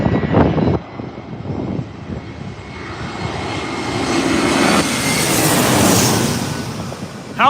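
A fixed-wing airplane arrives at San Diego airport as the last landing of the day, its jet engine roar building steadily and growing louder toward the end, with no talk.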